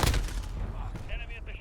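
UMP45 submachine gun fire in Call of Duty: Modern Warfare (2019), a quick burst of shots opening the short clip and booming loud and close before fading into a softer mechanical tail.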